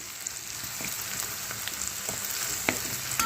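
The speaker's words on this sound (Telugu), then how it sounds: "వేసేసి చక్కగా ఇలా కలిపేసుకోవాలి" Chili powder stirred into a curry frying in a pan, a constant close sizzle with occasional light spoon scrapes and taps, no voices.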